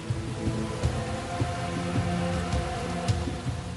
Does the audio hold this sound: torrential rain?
yes